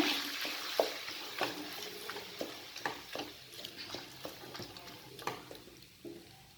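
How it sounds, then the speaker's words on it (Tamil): Adai stirred into ghee in a pan, with soft sizzling under repeated scraping strokes of a spoon, irregular and close, fairly quiet throughout. "அதை இந்த நெய்க்கு கூட போட்டு விட்டுடலாம். போட்டுட்டு நல்லா கிளறி விட்டுக்கிடுங்க."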